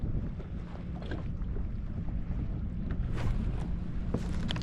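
Wind gusts buffet a fishing boat out on the western Long Island Sound, a low rumbling roar with microphone wind noise and faint water sounds, steady and close with no talking.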